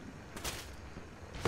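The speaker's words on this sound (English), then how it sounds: "Look at that, fireworks everywhere." Fireworks in ARK: Survival Evolved burst in a few distant, muffled pops and crackles, faint bursts spread across a low background rumble.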